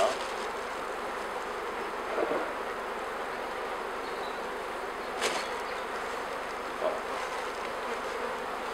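Honeybees buzz steadily inside a beehive while a queen is being replaced, a dense continuous hum near and fairly quiet, with a few faint knocks and taps.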